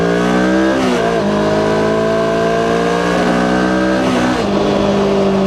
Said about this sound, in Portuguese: Escuta o motor.